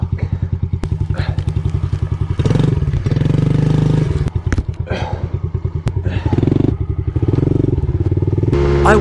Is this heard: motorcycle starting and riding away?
yes